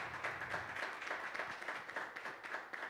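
Soft applause fills a formal ceremony hall: many hands clap in a dense, even patter that stays faint and steady throughout, without speech over it.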